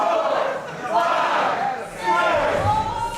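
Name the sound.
wrestling crowd cheering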